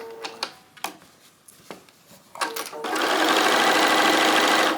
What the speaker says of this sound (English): Only takes a quick minute or two to sew along here.